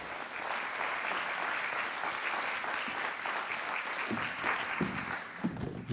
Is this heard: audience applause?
yes